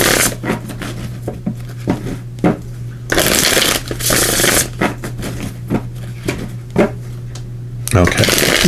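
Tarot of Dragons cards are shuffled in repeated bursts of riffling and sliding, loud and close, with a steady low hum running underneath between the bursts.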